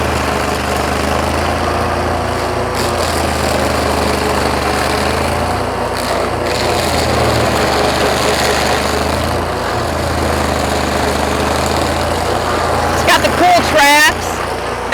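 A heavy tracked machine mows down brush and trees in a backyard, its engine a loud, steady low drone with shifting load throughout, heard under continuous nearby talk.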